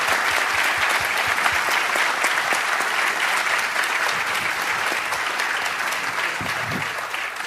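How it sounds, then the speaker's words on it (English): An audience applauds at a community conversation panel on the Affordable Care Act, sustained, dense clapping from a sizable crowd that holds loud and steady before easing slightly toward the end. "Give her a round of applause."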